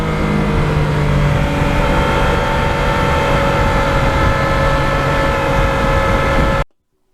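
A Yamaha MT-09 motorcycle engine pulls hard under acceleration, a loud, sustained tonal drone with steady harmonics that holds for several seconds before cutting off abruptly.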